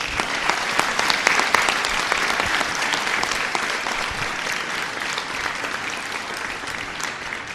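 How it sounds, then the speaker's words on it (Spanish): A church congregation claps in welcome, a loud, lively burst of many hands that peaks early and then settles into a steady, slowly easing round of applause. "que les da este aplauso de bienvenida."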